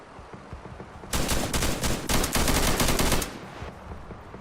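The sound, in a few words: gunfire in a video game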